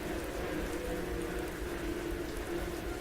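Steady rain falls in a horror video game, a continuous hissing patter of drops at moderate volume with no pauses.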